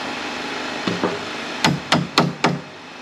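A hammer drives nails into metal cyclone straps on a tiny home build: two lighter taps, then four sharper, ringing strikes in quick succession, close and clear with no talking.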